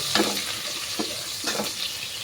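Onion and garlic sautéing in a little oil, a spatula scraping and stirring in a few distinct strokes over a continuous close sizzle.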